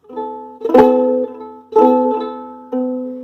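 Guitar chord fretted with fingertips while long nails keep the strings from sounding cleanly, strummed three times in slow succession, each strum ringing briefly and decaying.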